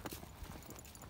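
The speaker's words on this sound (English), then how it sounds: "It's a horse." A horse's hooves clip-clop faintly in the distance during an evening walk with a Bullmastiff, a soft, irregular patter of steps against a quiet outdoor background.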